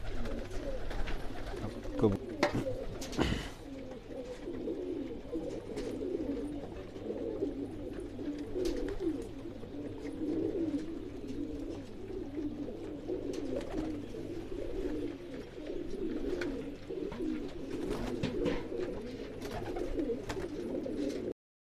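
Pigeons resting at a kabootar bazi pigeon-keeping setup coo continuously in a dense, overlapping chorus, moderately close and steady throughout, with a low background hum and occasional faint handling noises.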